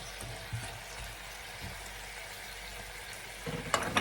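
Chicken adobo frying in a pan sizzles softly and steadily while being stirred, with a few light scrapes and knocks, building to louder clattering stirring near the end.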